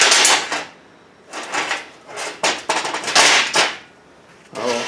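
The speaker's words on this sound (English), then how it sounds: "I'll throw just a weld bead on here just to see what it looks like." An Arccaptain MIG 200 welder with small-diameter wire and shielding gas lays a weld bead, crackling loudly in several short bursts separated by brief pauses.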